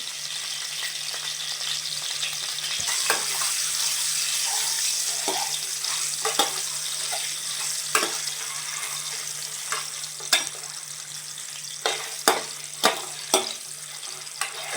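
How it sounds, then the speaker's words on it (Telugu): Boiled eggs frying in hot oil with turmeric, a steady broad sizzle with intermittent sharp pops and crackles growing more frequent toward the end, close and fairly loud, no talk. "ఇప్పుడు ఆయిల్ మరిగింది కదండి, అందులో మనం ఎగ్స్ వేసుకోవాలి."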